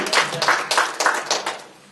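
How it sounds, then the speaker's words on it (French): Short burst of audience applause, about half a dozen rhythmic clap clusters in quick succession, fairly close, tapering off toward the end. "Juste un petit applaudissement là"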